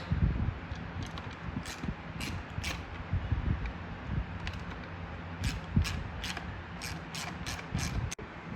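A ratchet wrench loosens 12 mm bolts on a Yamaha 115 SHO outboard motor (VF115LA). Bursts of quick clicking ratchet strokes repeat over a steady background rumble, close by and with no talking.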